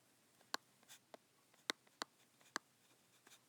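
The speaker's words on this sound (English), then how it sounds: "so I will write that in." Pen or pencil writing by hand on paper while noting a chemistry flowchart, with a handful of sharp, scratchy strokes and taps spaced irregularly, close and fairly quiet, no voices.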